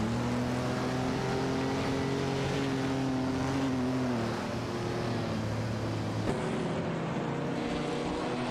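Simulated racing engines from a Fiat 8TV GA Supersonic and a BMW 3 CSL dueling for position, a steady loud droning whine with sustained tones that shift pitch slightly, then drop abruptly as one car changes note.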